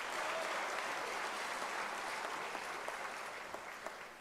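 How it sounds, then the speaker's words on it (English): An audience at an academic-year opening ceremony claps in sustained applause, even and fairly faint in a large hall, with a few isolated claps standing out as it tapers. "Can we give him a round of applause?"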